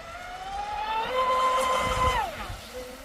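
An Oxidean Dominator RC boat runs on an open lake in poor weather, its electric motor whining steadily as it rises in pitch, holds through a turn, then drops away at the end against a windy background.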